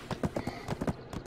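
Horse hooves clip-clop at a quick, even trot in the online game Black Desert Online, about ten close, clear footfalls over a faint background.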